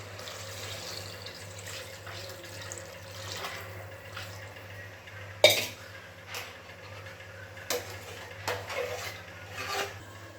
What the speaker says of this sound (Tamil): நம்ம வந்து தண்ணி ஊற்றிடலாம்.